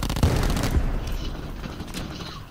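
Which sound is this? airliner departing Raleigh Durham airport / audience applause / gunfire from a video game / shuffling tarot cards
gunfire from a video game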